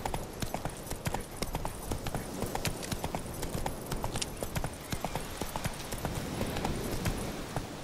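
Horse hooves in The Witcher 3 clip-clop in a steady, rapid rhythm throughout, close and fairly loud.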